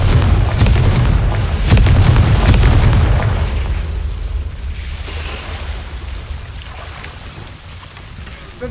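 A Confringo fire spell blasts in Hogwarts Legacy, a loud booming burst with crackling debris in the first three seconds that fades into a low rumbling tail, with no voices.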